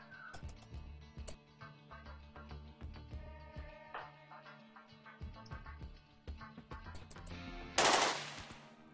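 Rapid gunfire from a firefight in the video game RimWorld, with dense bursts of shots crackling throughout and a loud, bright blast near the end, with no talking.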